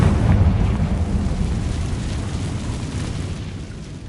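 A Confringo blasting spell going off in the video game Hogwarts Legacy, a loud, booming explosion with a heavy rumbling roar that slowly fades over about four seconds, with no voices.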